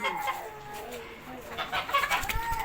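A chick kept and raised at home clucks and peeps in short, repeated calls amid household noise, close by, mixed with faint background voices.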